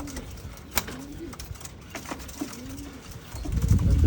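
Newly acquired pigeons on a free flight coo in several low, drawn-out calls with sharp clicks between them, ending in a louder burst of rustling noise.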